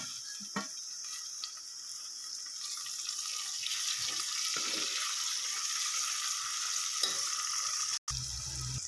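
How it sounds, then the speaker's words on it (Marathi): Tomatoes going into a pan of sizzling spiced rajma masala with garam masala, turmeric, salt and cumin powder, a steady bright hiss of frying with a few soft clatters and stirring sounds, then an abrupt cut. "हे मी टमाटर टाकून घेते"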